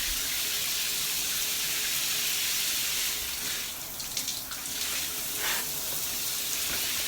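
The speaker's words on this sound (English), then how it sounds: "Take the clip out, rinse my hair." Running water from a tap rinsing through hair, a steady close hiss with brief splashing bursts partway through as the hair is worked under the stream.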